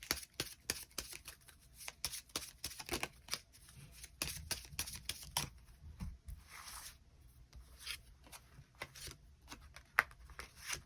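Tarot cards shuffled and drawn, giving a rapid run of crisp riffling flicks and papery slaps close to the mic, with brief pauses between bursts and no talking.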